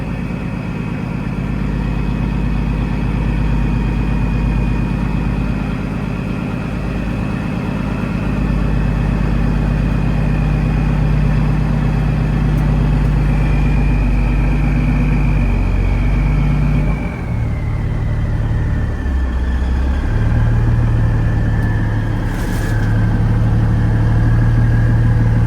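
Cummins diesel engine in a Peterbilt 379 idling on its first start-up, a loud steady low rumble that drops in pitch about two-thirds through and settles into a deeper idle.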